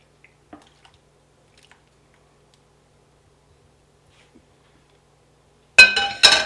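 Sliced potatoes and liquid are poured into a casserole dish for gratin dauphinois, producing a short wet clinking and splashing burst at the end after near silence.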